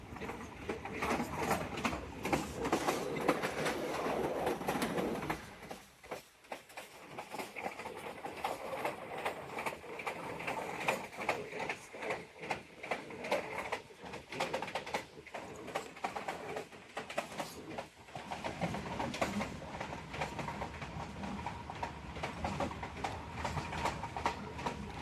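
Jaffer Express passenger train pulling out of Lahore Cantt, a steady rumble of wheels with rhythmic clickety-clack over the rails, continuous for the whole stretch with a brief dip early on, and faint birds in the background.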